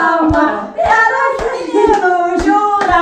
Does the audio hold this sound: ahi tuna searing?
no